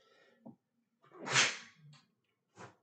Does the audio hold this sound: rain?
no